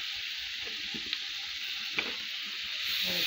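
Spices and chili powder frying and being stirred in a pan for a bottle gourd and shing fish curry, a steady soft sizzle running throughout with a couple of brief sharp clicks, no talking.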